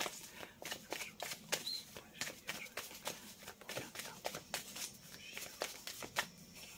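Tarot cards are shuffled and drawn from a deck, giving soft, rapid riffling and flicking close by, a quiet run of papery slaps in an uneven rhythm.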